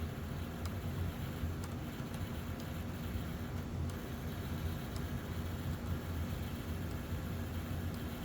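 An MDC Shay model locomotive motor running on test with a gear clipping noise: a quiet, steady whirring hum with faint, sparse ticks scattered through it.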